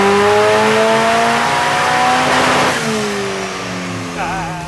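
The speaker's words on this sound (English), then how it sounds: "I'm back on the dyno for another run." A turbocharged 1.5 litre car revs hard on a dyno, the engine note climbing steeply then dropping off as the throttle lifts, loud and close with a whistling turbo tone near the end.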